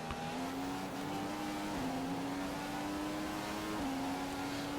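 A Formula 1 race car engine in the F1 2015 game holds a steady high-pitched drone, with brief dips where gears shift at about one-second intervals, loud and continuous with no talk.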